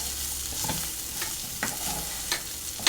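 A spoon stirs ivy gourd and spine gourd curry in a hot pan, giving a few distinct scraping strokes over a steady sizzle of frying, close and alone with no talk.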